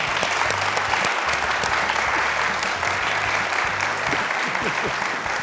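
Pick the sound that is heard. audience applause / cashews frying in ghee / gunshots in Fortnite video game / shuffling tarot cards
audience applause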